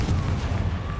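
Confringo blasting spell going off in a wizarding video game, a short, heavy explosive boom with a deep low-end rumble that lasts about a second.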